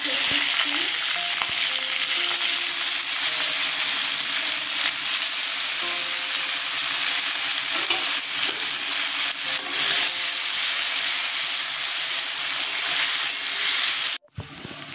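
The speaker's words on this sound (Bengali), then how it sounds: "পেঁয়াজটা দেখুন একেবারে লাল করে ভাজিনি, আধ ভাজা করেছি।" Onions fry in refined oil with dried chilli, cinnamon, cardamom, cloves and peppercorns, a loud, steady sizzle with faint stirring scrapes and clinks, ending in a brief cut near the close.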